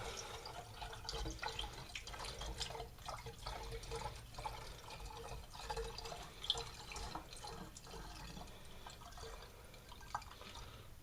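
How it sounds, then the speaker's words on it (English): Homemade strawberry wine poured from a measuring cup into bottles, giving a faint, soft trickle and splash with small drips and clinks, quiet and close. "And just filling up my bottles like that."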